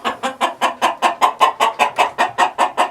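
A Cuckoo Marans rooster in a backyard chicken coop clucks in a fast, steady series of about fourteen close, loud pulses with no talking over it.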